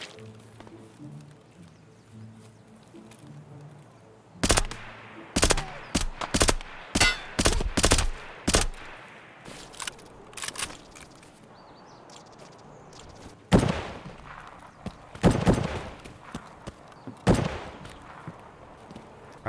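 Distant gunfire in the game Escape from Tarkov: a run of sharp, evenly spaced reports, then a pause and a few more scattered shots, coming from far off rather than close by.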